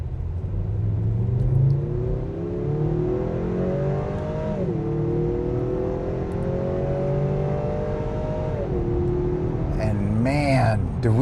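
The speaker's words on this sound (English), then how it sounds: "The engine obviously made a lot more noise and we got more acceleration." A 2024 Acura TLX A-Spec in sport mode accelerates hard, its engine note climbing loudly and steadily, dipping briefly at two gear changes before rising again, heard from inside the cabin.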